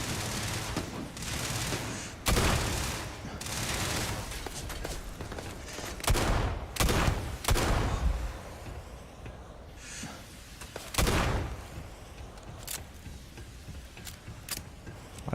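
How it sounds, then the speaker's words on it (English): Explosions and bursts of gunfire from the space game Starfield, loud and repeated, with several heavy booms and sharp blasts scattered across a dense, noisy combat soundscape. "Why do I hear that missile?"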